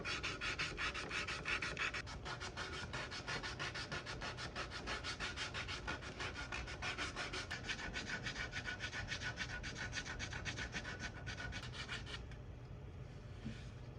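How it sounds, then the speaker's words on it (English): Steady, continuous sanding on a wooden furniture piece with discoloration and a ring mark, a dense rapid rasping texture that runs without a break and eases slightly toward the end. "I was hoping that sanding would do away with a lot of this discoloration and the ring on here"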